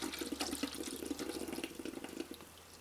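Diesel fuel is poured onto the tank of a new old stock diesel engine, a close, steady splashing trickle of liquid with a bubbly, uneven patter that thins out toward the end.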